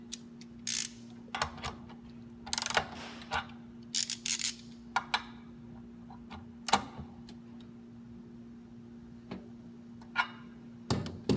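A wrench tightens the front wheel nuts on a Liberty Trike in a series of sharp metallic ratcheting clicks, coming in irregular short bursts with pauses between them, close and clear over a faint steady hum.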